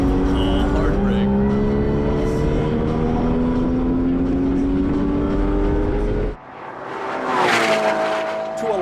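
A Porsche Carrera GT on a race track, its engine note loud and steady before it cuts off sharply under hard braking, followed by tire noise and a rising engine sound.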